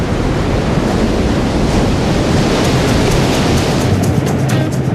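Strong ocean waves off Camiguin island, a loud, steady roar of surf mixed with wind rushing across the microphone and no voices.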